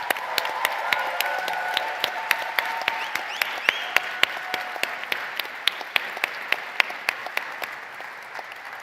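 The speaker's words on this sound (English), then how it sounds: "So now you can give an applause." Applause at a PES Congress 2025 session, where a conference audience welcomes panelists on stage; scattered individual claps ring out sharply over a softer, fairly quiet wash of clapping that fades slightly toward the end.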